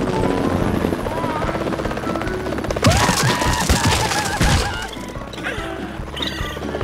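Cartoon helicopter on a ski patrol rescue, its rotor thumping loud and steady throughout, joined midway by crashing, clattering impacts, with no voices.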